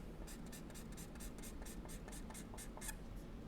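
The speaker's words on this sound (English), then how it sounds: "I'm cross hatching, sorry, my Sharpie is dying on me." A dying Sharpie marker cross-hatches on paper in about a dozen quick, evenly spaced scratchy strokes, close and quiet, with no voices.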